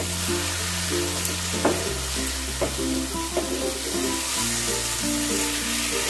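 Carrot halwa with cardamom is stirred in a pan, giving a soft continuous sizzle with occasional scraping taps of a spoon. Steady background music plays throughout.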